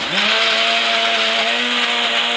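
A blender motor whirs loud and steady as it mixes the ingredients for a keto egg-fast Alfredo sauce, including garlic powder, with the lid on. The motor spins up quickly and then holds an even, continuous drone with no talk over it.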